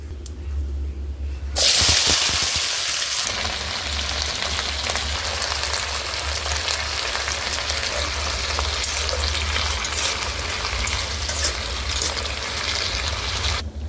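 Potatoes and eggplant fry with onion and chili in hot oil, a loud close sizzle that flares sharply at the start and then settles into a continuous crackling hiss.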